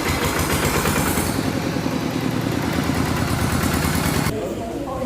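Quick Impala hand tractor with an aftermarket remote installed, its engine running at a steady idle. The chugging is fairly loud and close, then drops quieter near the end.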